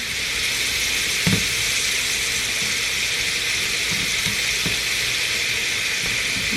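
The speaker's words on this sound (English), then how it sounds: "Shrimp doesn't take very long to cook at all." Shrimp fry in oil and butter in a skillet, a loud, steady, close sizzle running throughout, with a few faint utensil knocks underneath.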